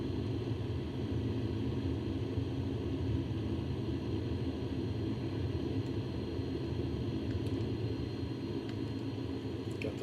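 Steady, droning engine and wind rumble from a bush plane taking off in strong crosswinds in Microsoft Flight Simulator 2020, constant and fairly soft throughout with no speech.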